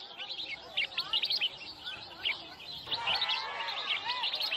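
Exotic caged birds at a market bird singing competition give bright, rapid chirps and warbling trills, with several overlapping calls that thicken into a continuous chorus over faint background noise.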